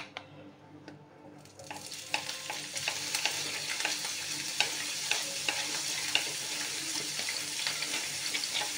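Empanada filling ingredients sautéing in a generous amount of oil, giving a steady close sizzle and frying hiss with intermittent stirring clinks and scrapes, after a quiet moment at the start; no voices.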